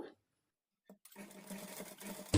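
A sewing machine stitches a folded strip on a princess-cut blouse with invisible thread, starting after a brief pause and running steadily for over a second, fairly quiet and close, then ending with a louder knock.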